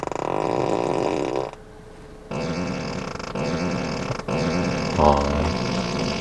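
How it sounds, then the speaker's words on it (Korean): Novelty fart sound effects played inside a Tesla Model S Plaid, several loud, buzzy blasts of differing tone with short gaps between them, close and clear. "심지어 방귀 소리도 되게 여러 가지입니다."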